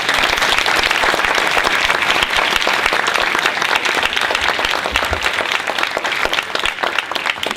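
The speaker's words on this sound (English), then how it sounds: "Give yourselves a round of applause" A large audience applauds itself at the close of a talk, dense sustained clapping that stays loud and steady throughout with no voices.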